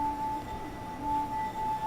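A wine glass sung by rubbing its rim, giving a faint, steady pure ringing tone that holds unbroken over a low background hiss.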